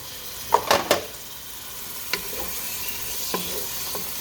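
Meat and olives drop into a boiling pot of rice and beans: a quick cluster of near clattering splashes and stirring knocks, then a low steady simmer broken by a couple of faint taps.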